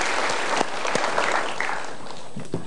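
An audience at a motivational seminar claps steadily, a dense wash of applause with a few sharper individual claps standing out and no talk over it.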